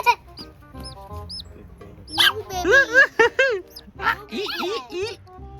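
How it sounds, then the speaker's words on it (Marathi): Tiny chicks chirp in short, high, rising peeps at a village home, scattered through the clip and often under close talk from an adult and a child. "कोंबडीच्या पिल्लू ओजू"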